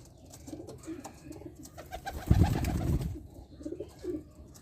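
Breeder pigeons give low, throaty coos in a soft rhythmic series close by, swelling into a louder burst midway before settling back into quieter cooing.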